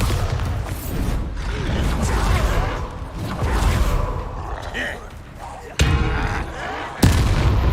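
A Bombarda explosion spell cast in Hogwarts Legacy gameplay, with booming blasts and sharp impacts over dense combat noise, with voices calling out and a couple of sudden loud hits near the end.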